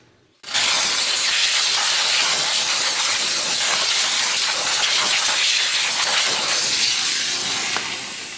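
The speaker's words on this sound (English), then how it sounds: "let me just show you what a little steam can do." Car detailing steamer blasting a dirty car wheel rim, a loud continuous hiss that starts abruptly after a brief pause and holds steady close up for about eight seconds before easing slightly.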